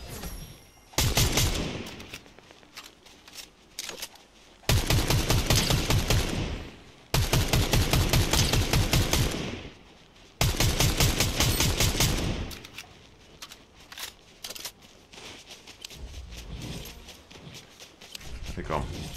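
Fortnite gunfire in several loud, close bursts of rapid automatic shots separated by short pauses, followed by quieter scattered shots, with someone talking over it.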